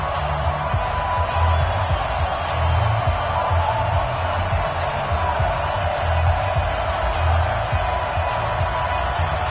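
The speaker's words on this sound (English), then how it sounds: "This crowd is ready as their guys get set to match up between the Baltimore Ravens and the Cincinnati Bengals." Stadium crowd in EA Sports NFL game before a Baltimore Ravens versus Cincinnati Bengals matchup, a continuous dense roar of cheering with occasional swells, steady and moderately distant, with faint commentary beneath.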